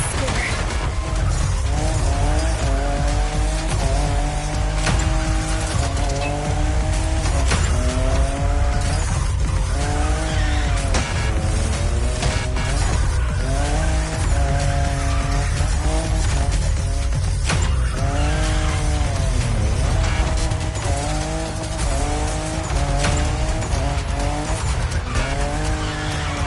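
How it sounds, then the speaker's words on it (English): Fifth-generation Toyota Supra drifting in the video game The Crew Motorfest, its engine revving up and down in repeated sweeping pitch swells under continuous tire squeal, steady and loud throughout, with a voice talking over it. "In love with what Toyota did with this new Supra, the 5th generation of a myth."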